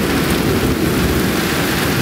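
Loud, steady downpour with a low rumbling undertone, like rain during a thunderstorm, continuous and close.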